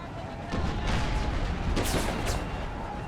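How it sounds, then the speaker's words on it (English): Howitzer artillery in an Empire: Total War battle fires in a few booming, overlapping blasts that rise out of a constant rumbling battle ambience. "All howitzers, fire on their artillery"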